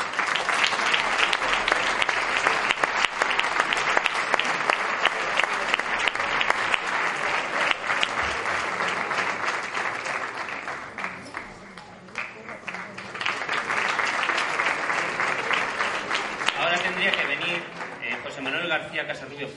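A band concert audience at an anniversary performance gives long, dense applause, with a brief dip in the middle before the clapping swells again; a voice speaks over it at points.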